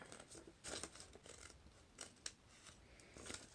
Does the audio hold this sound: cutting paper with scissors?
yes